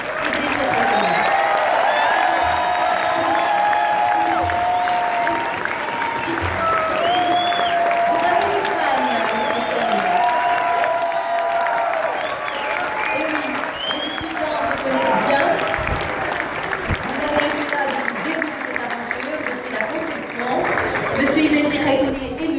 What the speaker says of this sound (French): Sous vos applaudissements, le project manager du Solar Décathlon Africa, M. Samir Idriss.